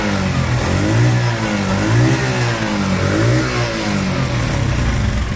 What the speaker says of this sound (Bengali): যদি বাইকটার সাউন্ড দেখি আমরা, সাউন্ড কন্ডিশনটা দেখেন খুবই সুন্দর, স্মুথ সাউন্ড